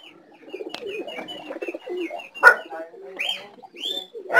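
A racing pigeon hen coos in a loft, with repeated low, throaty coos and some higher calls from nearby birds, close and clear, while a person talks faintly in the background.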